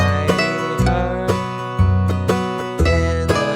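Close, loud mandolin picking a bluegrass phrase using only downstrokes, each note struck evenly in a steady rhythm, played alone.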